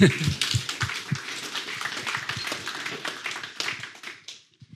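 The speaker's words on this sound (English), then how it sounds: "to the rousing applause of our audience, please" Audience applause at an evening joint event by Orca AI and DNV on AI and automation for maritime innovation, a dense wash of clapping that holds for about four seconds and then trails off as it ends.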